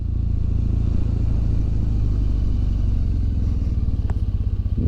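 A motorcycle being ridden and parked idles and putters loudly up close, its engine pulsing in a steady low throb with some light clatter, and the rhythm slows slightly toward the end.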